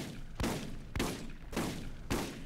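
Gunfire in the video game Borderlands as players shoot at pipes, four evenly spaced, heavy shots roughly half a second apart, loud and close with no talking.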